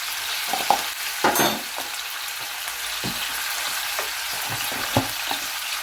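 Steady sizzle of tomatoes with salt and turmeric frying in hot oil for fish sambal, with occasional stirring clinks and scrapes against the pan.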